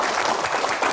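An audience applauds at a Q&A event, a dense and steady wash of many hands clapping at once, loud and without a break.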